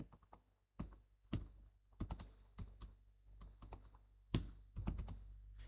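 Keys on a computer keyboard are typed in a quiet, irregular run of crisp clicks and taps, close and faint, with no talking.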